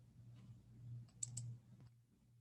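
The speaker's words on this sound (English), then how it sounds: "So I'm just typing in 11," Quiet, close keystrokes on a computer keyboard, a few scattered clicks over a low steady hum.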